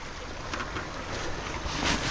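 Strong wind rushes continuously across an outdoor microphone during a ride through lanes near a brook and bridge, a dense, loud roar with gusty swells and no voices.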